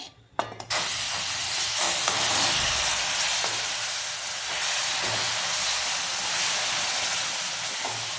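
A loud, steady steaming hiss of water added to wheat flour in a hot pan, starting abruptly after a brief clatter and holding nearly constant throughout.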